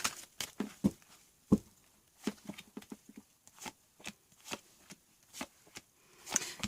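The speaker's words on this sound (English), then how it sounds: "I'm just going to do a couple more shuffles" Tarot cards being shuffled in quick, crisp bursts of riffling and tapping, close and fairly quiet, with brief pauses between shuffles.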